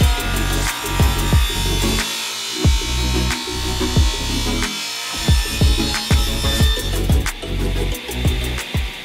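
A table saw cuts baseboard on a miter sled, its motor humming steadily while repeated bursts of blade contact and whining spin-down sweeps recur through the cut, close and loud with no talk.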